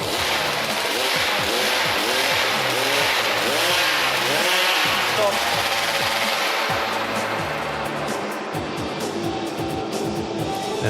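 A small two-stroke chainsaw engine revs up and down repeatedly at close range while warming up at a STIHL Timbersports competition, its buzzing pitch rising and falling in uneven bursts with no voices.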